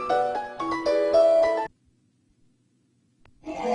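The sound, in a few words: phone ringing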